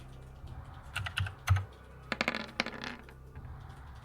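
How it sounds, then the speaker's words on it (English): A large handful of dice clatters across a table during a World of Darkness tabletop role-playing session, with a quick burst of clicks followed by a second scattered rattle as they tumble and settle, close and fairly quiet. "It's a lot of dice. Sounds a lot of dice."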